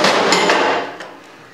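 A hammer strikes metal during restoration work on a South Bend 10K lathe, giving a loud, close, bright impact with a few quick ringing hits that fade away, with no talking.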